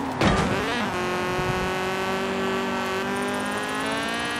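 A 2007 Honda Civic Type-R engine in Forza Horizon 4 revs up and holds a high, steady, sustained whine, loud and close with no talk over it.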